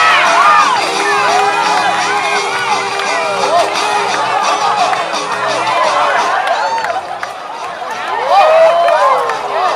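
Rodeo contestants at a state fair shout, whoop and cheer loudly in a dense, sustained crowd roar, with an announcer's amplified voice talking over the noise.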